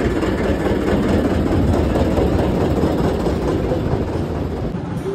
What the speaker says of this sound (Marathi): ही आहे ट्रेन